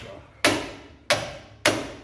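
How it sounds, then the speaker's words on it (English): An impact hammer strikes brake drum screws on a Rolls-Royce brake job: three sharp, close metallic blows at a steady, slightly uneven pace, each followed by a short ringing decay, with no talk. "impact hammer, and it loosens those up real nice"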